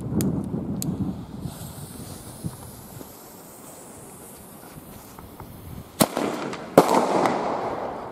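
Firework bangers burst at low height during a New Year's Eve pyrotechnics session, a couple of sharp cracks followed by gusty wind noise, then two louder close bangs near the end with crackling.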